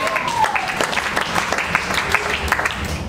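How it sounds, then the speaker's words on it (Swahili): A church congregation clapping in praise during a sermon, a sustained burst of many hands applauding together at a steady level. "Hebu pigie Yesu makofi ya utukufu mazuri sana."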